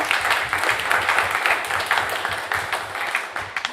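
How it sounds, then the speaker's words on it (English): Applause from a live radio show audience, a steady wash of many hands clapping close by, with faint voices mixed in. "how about one more round of applause for Lightnin Charlie"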